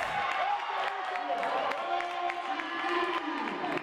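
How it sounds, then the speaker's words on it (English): Fans at an indoor volleyball match in a fieldhouse applaud and cheer, a steady moderate wash of clapping and crowd noise with a commentator talking over it. "Fans applaud."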